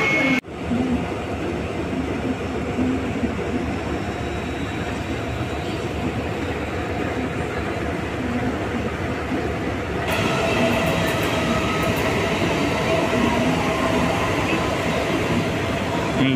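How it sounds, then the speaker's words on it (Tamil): Local trains rumble past a platform at Dadar Terminus in Mumbai, a steady rolling rail roar with wheel clatter that continues throughout and swells louder partway through, with no talk. "இந்த அடுத்தடுத்து போகிற லோக்கல் ட்ரெயின் ஆக்ஷன்லாம் வந்து மிஸ் பண்ண போகிறோம்."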